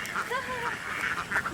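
A flock of ducks quacks in a short, busy cluster of overlapping calls at moderate distance, heard at a farm site while the birds are being moved to a new home.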